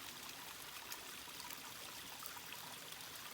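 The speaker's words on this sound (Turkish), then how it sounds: "Ya da sesini duyduğum su. Küçük bir şelale oluşmuş burada." Water from a small waterfall trickles and splashes continuously outdoors in a village, a soft steady hiss with faint droplet detail, quiet and alone.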